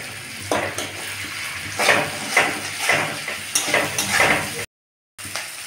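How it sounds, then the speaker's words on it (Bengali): Chopped garlic and ginger sizzle in hot oil in a pan for street-style egg chowmein, with a steady fry hiss punctuated by rhythmic scraping stirs of a spatula, close and fairly loud, with a brief dropout near the end. "তেলের মধ্যে আমি কুচনো রসুন, কুচনো আদা দিয়ে দিলাম, দিয়ে এটা ভালো করে নেড়ে নেব।"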